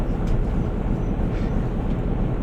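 Train running in Train Sim World on the Northern Trans Pennine route, a dense, steady low rumble of wheels and engine, loud and continuous throughout.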